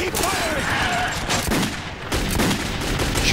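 Gunfire in the first-person shooter Metro 2033, a rapid burst of sharp shots followed by more scattered bangs, loud and close, with a voice talking over parts of it.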